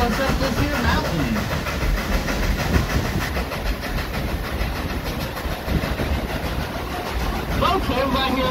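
Dollywood steam train climbing a mountain grade, a continuous rumbling chuff and rattling clatter of wagons, with people talking over it throughout.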